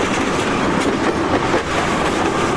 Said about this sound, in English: Wheels rolling over the tracks.